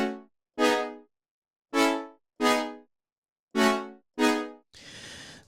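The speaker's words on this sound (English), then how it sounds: "let you hear what the brass by itself sounds like" Synth brass plays short swelling chord stabs in pairs with gaps between, ending in a brief noisy burst.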